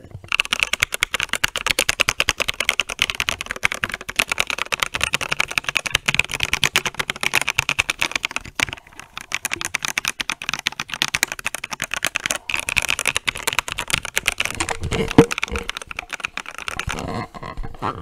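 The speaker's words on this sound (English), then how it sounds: "the sound of the keyboard sounds pretty good. Let's go ahead and do that so you can hear it." Steady, dense clatter of keystrokes on an Epomaker EP75 mechanical keyboard, close and fairly loud, with a brief pause mid-way and a few heavier thocks near the end, no talking.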